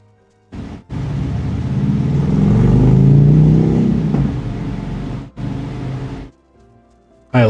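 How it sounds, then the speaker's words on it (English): A motorcycle speeds past close by, a loud, rising and falling roar that builds over a few seconds, peaks and then cuts off, heard alone with no talking. "I'm sorry y'all just had to hear that motorcycle go speeding by."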